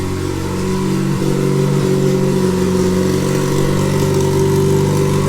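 Loud, steady drone from a car's 1.8T 20v turbo engine fitted with a modified boost pipe and up pipe, with a Holset HX35 turbo, running close by with slight rises in revs and no voices.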